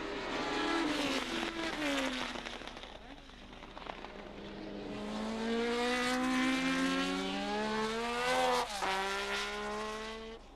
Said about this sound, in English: as the cars raced away from the grid, he lost out to Regazzoni